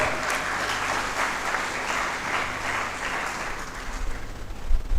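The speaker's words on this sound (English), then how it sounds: "I thought you'd give me a round of applause for that." An audience at a university inaugural lecture claps in a steady, full round of applause that holds for several seconds, with a few louder thumps near the end.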